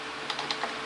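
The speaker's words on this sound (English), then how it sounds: "you just type whatever" A few soft, scattered keystrokes on a computer keyboard, faint beneath a steady hiss of background noise.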